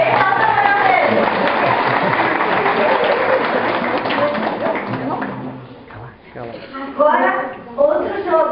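Children and adults clapping after a game winner at a church children's Mass, a dense steady patter of hands that thins out toward the end, with voices talking over it.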